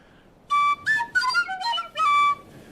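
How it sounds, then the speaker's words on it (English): A penny whistle is played alone in a few short, breathy phrases of bright notes, starting and stopping in quick bursts with brief gaps between them. "And then I got this penny whistle."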